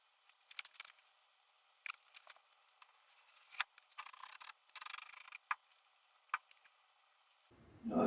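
Intermittent rasping scrapes of sandpaper on gritty body filler on a Ford Escort MK1 under restoration, short close bursts of strokes with quiet gaps between them.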